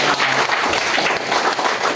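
Audience applause at a Hindi motivational talk, steady dense clapping filling the whole moment at a fairly loud level with no talk over it.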